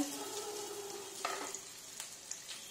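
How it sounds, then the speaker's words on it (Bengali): Grated coconut and nuts fry gently in ghee for a sweet pithe filling, a soft, quiet sizzle broken by a few light stirring clicks against the pan. "বাদামটা ভাজা করে নিয়ে এবার নারকেলটা দিয়ে দিলাম।"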